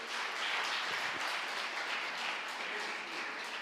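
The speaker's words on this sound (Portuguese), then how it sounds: "Vamos aplaudir o Senhor." A church congregation applauds the Lord during a family-relationship sermon, with a dense, steady wash of clapping from many hands throughout, moderately loud and unbroken by talk.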